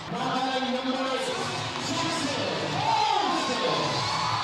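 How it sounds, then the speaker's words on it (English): A crowd at a Savannah Bananas Banana Ball baseball game cheering and whooping in celebration, a broad roar with yells rising near the end, a commentator's voice faintly under it. "a little extra celebration in the crowd"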